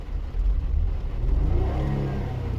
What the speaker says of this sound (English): Rev the engine a little bit up.